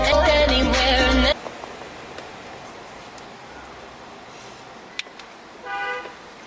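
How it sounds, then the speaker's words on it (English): A loud, steady car horn blares for just over a second, then cuts off, leaving faint background noise with a couple of small clicks and a brief chirp. "Why are we honking?"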